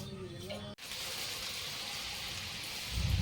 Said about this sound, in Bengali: এখানে এখন সুজি ভাজা হচ্ছে।